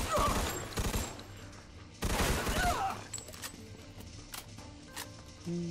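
Gunfire in the Mafia II: Definitive Edition game, two loud bursts of rapid shots close by, followed by fainter scattered shots and ambient game noise.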